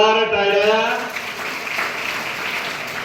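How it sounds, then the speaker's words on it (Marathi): Loud applause fills a Marathi social awareness program honoring a school principal, rising right after a brief voice and continuing as a steady, dense wash of clapping. "जोरदार टाळ्या."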